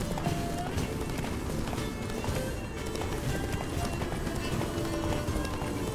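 In The Witcher 3: Blood and Wine, a horse gallops, its hooves pounding in a quick, steady clip-clop rhythm throughout, close and prominent, with a voice talking over it.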